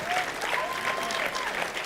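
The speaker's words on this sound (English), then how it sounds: "give a big round of applause to our speakers this morning" Conference audience applauding speakers, a steady dense wash of clapping held at an even level throughout, with faint voices underneath.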